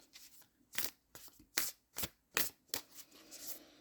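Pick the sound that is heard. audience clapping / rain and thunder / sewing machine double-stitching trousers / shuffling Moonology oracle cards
shuffling Moonology oracle cards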